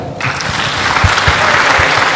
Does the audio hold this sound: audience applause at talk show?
yes